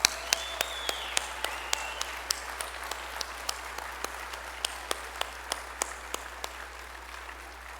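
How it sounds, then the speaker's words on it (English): Scattered audience clapping at an annual event honoring the entertainment, a sparse round of distinct individual claps ticking along fairly evenly, moderately distant in a quiet hall. "please join me in another round of applause for the outstanding entertainment of"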